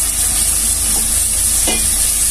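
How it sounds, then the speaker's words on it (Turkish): Rice for pilaf sizzles loudly while it is sautéed in a pan, a dense continuous frying hiss with a few soft stirring scrapes. "Biraz bu şekilde kavuruyorum canlar."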